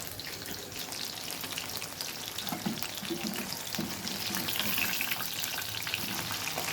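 Small chicken pieces for Chicken 65, made with a packaged masala, frying together in hot oil, with a steady crackling sizzle close by that grows slightly louder, accompanied by a few soft stirring clicks.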